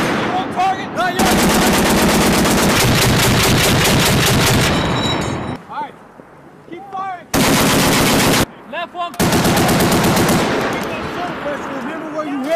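Machine gun fire on a military training range: three long, loud bursts of rapid shots are separated by short gaps, with shouted voices and echoes between them.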